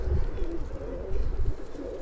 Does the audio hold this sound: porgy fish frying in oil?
no